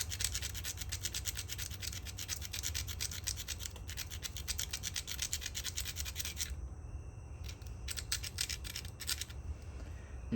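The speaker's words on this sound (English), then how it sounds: "Just grind it down pretty heavy." A worn grindstone grinds down the base of a stone Folsom point, a continuous close scraping rasp in rapid back-and-forth strokes that pauses briefly and then resumes in short bursts.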